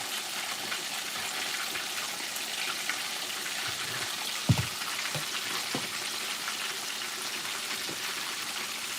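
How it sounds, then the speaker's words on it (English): Fish frying in a pan, a steady, fairly quiet sizzle and crackle with one brief knock of a utensil partway through. "Oh yeah, it's frying up good."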